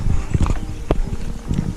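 Horse hooves clip-clop in a quick, uneven rhythm on an accessible dirt mountain track at Pico Gilbo, loud and close against steady outdoor background noise.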